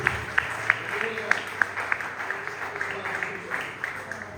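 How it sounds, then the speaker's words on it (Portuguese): A church congregation at a Portuguese-language deliverance service claps in sharp, fairly even beats that become a looser spread of applause, with a voice speaking faintly underneath. "A igreja aceita aplaudindo ao Senhor, amém?"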